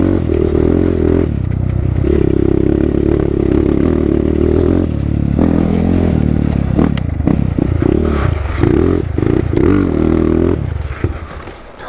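A four-stroke motorcycle engine drones loudly and steadily, then revs unevenly with sputters and clatter before cutting out near the end as it stalls.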